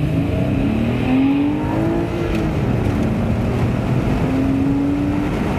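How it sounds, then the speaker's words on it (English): A Porsche Boxster Spyder's direct-injection flat-six engine pulls hard around Willow Springs Street Circuit, rising and falling in pitch through gear changes with a loud, continuous in-car engine roar and no talking. "listen to that beautiful direct injection flat 6"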